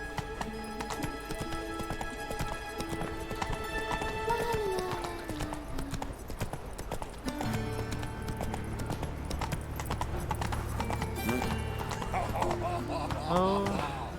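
A horse gallops at a quick, steady rhythm in The Witcher 3 video game, with a whinny and tonal game music or sounds layered over the hoofbeats.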